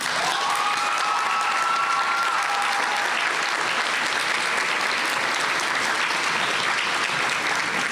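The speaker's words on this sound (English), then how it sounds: "Please recognize them by your applause." A commencement audience at a college graduation gives sustained, dense applause to the graduates' families, with many hands clapping evenly at a steady level throughout, and a few faint voices cheering near the start.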